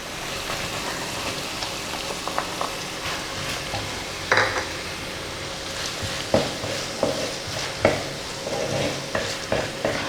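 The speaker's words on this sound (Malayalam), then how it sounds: "ഇനി നമുക്ക് ഇതിനകത്തോട്ട് അരിഞ്ഞു വെച്ചിരിക്കുന്ന സവാള ചേർത്ത് കൊടുക്കാം" Sliced onions sautéing in a pan for duck curry, a steady sizzle with occasional scraping stirs and clinks of the spatula against the pan, close and even throughout.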